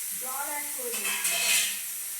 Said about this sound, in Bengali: এই মশলার সাথে এর মধ্যে একটু জল অ্যাড করে দিচ্ছি।